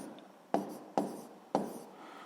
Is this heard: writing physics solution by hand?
yes